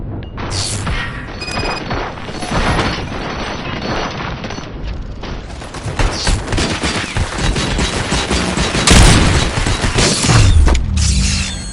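Loud, sustained volleys of gunfire and heavy booms fill a firefight in Robocop: Rogue City, with mechanical clanks between overlapping shots, close and dense throughout.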